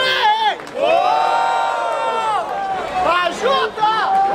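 Crowd at a freestyle rap battle in Barueri, São Paulo, roaring and cheering loudly with sustained shouts and whoops, rising and falling in waves from a packed audience nearby.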